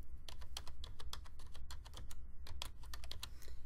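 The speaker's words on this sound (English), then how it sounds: "I'm going to type in World's Fair." Quick, uneven keystrokes clatter on a computer keyboard as a search is typed, close and fairly quiet with no voices.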